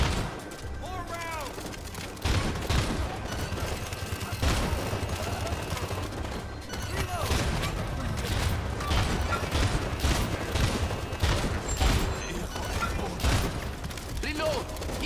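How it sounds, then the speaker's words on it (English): Rapid gunfire from turrets in a tower defense video game, dense bursts of shots and mechanical clatter mixed with game effects and music, steady and loud throughout. "turret barely has time to like lock on to anyone"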